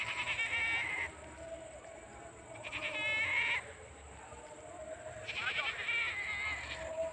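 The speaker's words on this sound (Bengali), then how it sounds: "কিছু ছাগল বাঁধা আছে গরু বাঁধা আছে" Goats bleat in a rural field where goats and cattle are tethered, with a few wavering calls rising over steady outdoor background noise.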